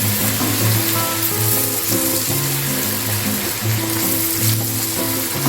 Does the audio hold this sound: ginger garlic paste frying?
yes